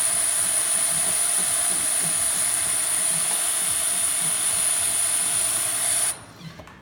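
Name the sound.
Jura J5 coffee machine steaming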